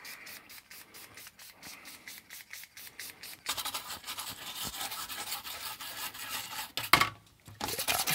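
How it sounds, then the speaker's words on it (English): A brush scrubs an Amiga 1200 circuit board sprayed with isopropanol after flood damage, first in quiet rhythmic strokes, then louder continuous scratchy rubbing with a sharp burst near the end. "So I'm just going to just spray a lot of IPA on here and use my brush."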